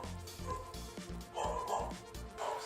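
Dogs bark and yip in short bursts at a low level, several quick barks clustered together with a faint voice murmuring underneath.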